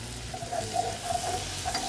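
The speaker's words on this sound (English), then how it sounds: "Now that the butter is almost melted, I am going to slowly add flour and whisk it" Flour being whisked into melted butter in a pan for a crockpot chicken pot pie, a soft continuous sizzle with light scraping strokes, close and fairly quiet, no voices.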